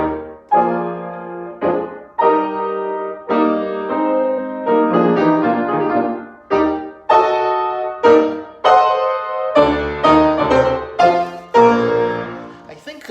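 Piano plays a short melodic theme in clear, detached phrases with rests between them, close and fairly loud, with no talking.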